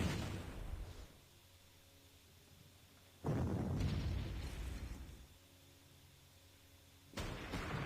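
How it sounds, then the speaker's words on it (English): Artillery fire and explosions in the wartime strategy game Panzer Corps: two or three heavy, rumbling booms that each swell and slowly fade, loud and close, with no talking. "And I have a ton of artillery to dispatch this guy."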